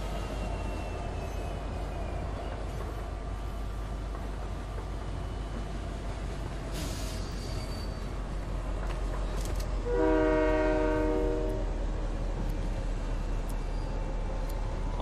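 A train in Fortnite rumbles steadily throughout, and partway through its horn sounds one sustained blast over the constant rolling noise.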